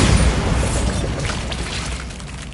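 A magic spell blasting through a barrier in Hogwarts Legacy: one loud, close, booming burst that rolls and slowly fades over a couple of seconds, with no talking.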